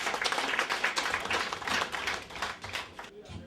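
Audience at a charity evening in a hall clapping steadily for several seconds, a dense, even patter of many hands that eases slightly toward the end.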